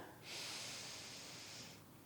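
A single deep breath drawn in during a mobility workout, a soft, faint, airy inhale lasting about a second and a half, with no talking.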